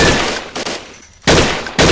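Machine gun fire in the shooter game Blockade 3D: loud rapid bursts of automatic gunfire, with a short lull in the middle before two more sharp volleys.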